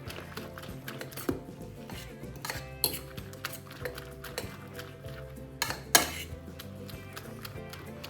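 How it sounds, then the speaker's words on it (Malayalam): Beaten egg being mixed with crushed black pepper in a bowl, giving soft irregular clinks and scrapes of a utensil against the dish with a few sharper taps, close and moderately quiet, no talking. "ഇത് നല്ലതുപോലെ മിക്സ് ചെയ്യേ."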